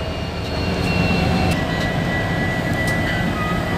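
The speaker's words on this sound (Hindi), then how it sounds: "इंजन हमारा स्टार्ट हो गया है" A diesel train locomotive engine idles steadily just after being started, a loud continuous low rumble with whining tonal hum throughout and a few brief high clicks, no talking.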